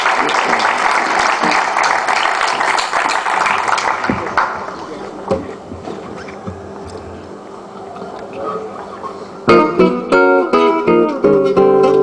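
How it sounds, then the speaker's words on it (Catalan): Applause from an audience at the closing of a poetry festival in Sitges, a dense burst of clapping for about four seconds that thins out, with a few scattered claps trailing off before other sounds begin. "Un aplaudiment, si us plau."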